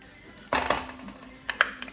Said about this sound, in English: So that will start to sizzle in the mixture.